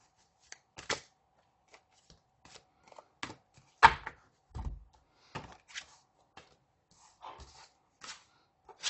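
Tarot cards are shuffled in soft, irregular bursts of riffling and slapping, close and quiet against near silence.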